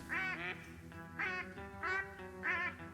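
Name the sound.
mallard ducks, drakes flying in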